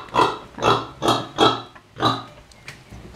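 Pigs on a farm grunting in a quick series of about five close, loud grunts in an uneven rhythm, followed by a quieter one, with no talk.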